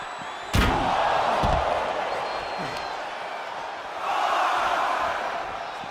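Wrestler's splash landing in the WWE 2K25 video game: one sharp, loud slam, then a sustained crowd roar, with a commentator talking over it.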